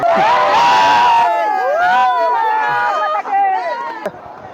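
A dense crowd at the Kandakot Mahadev temple fair shouts and cheers loudly close by, with overlapping raised voices and whoops forming a constant hubbub that eases slightly toward the end.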